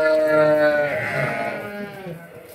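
Sheep bleat on a farm pen holding a flock bred from a prized ram, overlapping loud, close, quavering cries that trail off over a few seconds.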